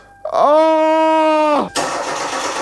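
A cheap £250 car engine cranks and catches after a jump start, revving with a rough, misfiring note for just over a second before cutting out, followed by loud broadband rattling noise.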